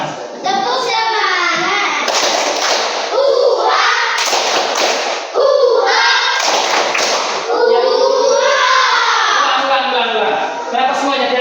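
Children in a primary classroom perform a rhythmic 'tepuk semangat' spirit clap, a loud patterned sequence of hand claps and thumps mixed with their chanting voices throughout.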